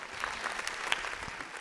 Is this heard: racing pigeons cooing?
no